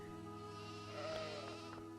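Dall sheep bleating in the zoo-building video game Planet Zoo, a single quavering bleat over a steady hum of ambient game sound, faint and moderately distant.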